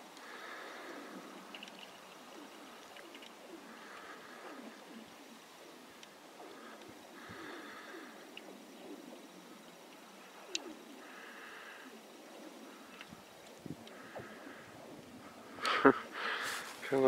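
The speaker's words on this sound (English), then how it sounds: "I want you guys to hear the cool sounds the ice is making." Ice on a frozen lake groans and pings, with low pulsing booms and thin zinging cracks at a distance. A steady outdoor hiss runs under them, and a couple of louder knocks come near the end.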